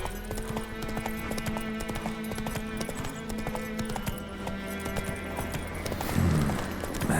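Hooves of the horse Roach in The Witcher 3 clop in a steady, rhythmic gait, close and clear over a quiet game background.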